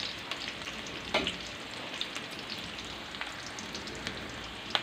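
Mutton liver frying with turmeric in a pan, a steady close sizzle with occasional light taps and scrapes of stirring, no voices.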